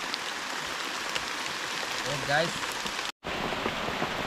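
Rain pours steadily onto a forest at a rainy bushcraft campsite, a dense, even hiss throughout, broken by a brief dropout near the end, with a short faint tonal call partway through.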